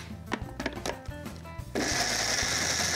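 A mixer grinder kicks in partway through, blending tomato sauce with a steady loud whirring roar that runs to the end after some kitchen clatter and soft knocks.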